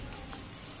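Chopped onions fry in hot oil in a pan, giving a brief, even crackling sizzle like steady hiss, with no other sounds standing out.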